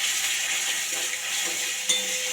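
Onion paste frying in a pan, a steady close sizzle with faint stirring and a light clink of cookware, no talking.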